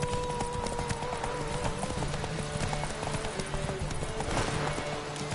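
Roach the horse galloping in The Witcher 3, a rapid, steady clip-clop of hooves under game music, with faint voices in the background.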